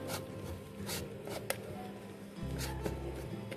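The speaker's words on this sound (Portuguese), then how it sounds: "Aí vamos misturar aqui bem." Cake batter made with corn flakes and grated coalho cheese is mixed by hand in a bowl. Soft, wet, scraping and squishing strokes repeat, with one sharp click midway and a heavier, lower churning near the end.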